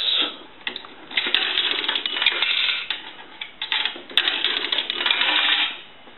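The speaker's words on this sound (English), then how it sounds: "They'll ring the bell once." Nickels drop and clatter through a three-slot payphone coin slot, each ringing the bell once, a bright bell-like ring among the rattling mechanism, close and busy throughout.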